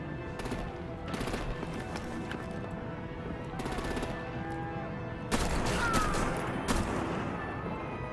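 Artillery gunfire in the Batman: The Enemy Within game, bursts of rapid shots and loud blasts repeating across the scene, with a heavier crash midway over continuous action noise.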